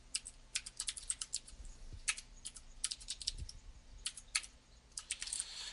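Code is typed on a computer keyboard in quick, close bursts of crisp key clicks with brief pauses between runs, over faint room hum and no speech.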